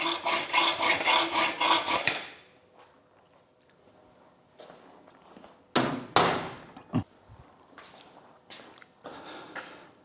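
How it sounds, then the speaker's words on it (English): A hacksaw cuts steel conduit in quick, rhythmic rasping strokes for about two seconds. Quieter scraping and a few sharp knocks of handling follow. "Use the full length of the blade and allow the blade to cut right through to the end."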